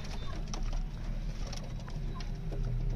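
Pigeons coo softly inside their coop, quiet intermittent calls over a low, steady background hum, with faint shuffling and patter.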